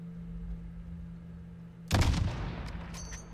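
A single sniper rifle shot in the Modern Warfare 2019 campaign, fired at a target about 600 meters away: one loud, sharp crack breaking a low steady hum, followed by a short decaying tail and faint mechanical clicks.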